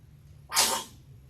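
A single short sneeze, fairly close and clear, rising sharply and fading within half a second over a quiet room.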